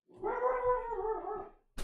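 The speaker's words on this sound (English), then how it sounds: "Don't know if you guys heard the dog barking." A dog gives a drawn-out, wavering howl-like vocalization close by, lasting over a second in an otherwise quiet room, then a brief burst of noise at the end.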